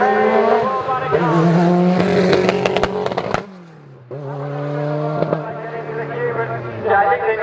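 Group A World Rally car at a rally day event, engine revving hard with rising and falling pitch, a brief drop-off then a second loud pass with crackles and pops, close and loud, with voices in the background.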